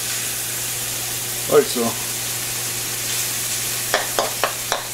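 Garlic sizzles in hot oil in a pan as a steady, low frying hiss, with a brief spoken phrase over it and a few light knocks or stirs near the end.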